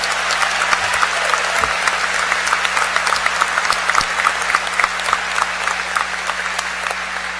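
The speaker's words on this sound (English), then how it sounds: "And I love the applause" Large crowd at the UCF College of Medicine commencement applauding, dense sustained clapping with sharp individual claps standing out near the front, loud and steady throughout, with a low constant hum beneath.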